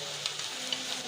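Egg-battered bread frying in ghee over a low flame, giving a steady soft sizzle with faint crackles and no talk.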